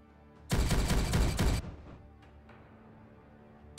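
A loud burst of rapid gunfire in the Warhammer 40K Regicide video game lasts about a second, then cuts off into a faint ringing tail with a few distant pops.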